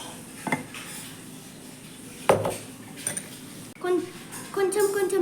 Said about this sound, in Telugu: ఇప్పుడు మిక్సింగ్ స్టార్ట్ చేసుకుందాం. మిక్సింగ్ కట్ అండ్ ఫోల్డ్ ప్రకారంలో చేసుకోవాలి.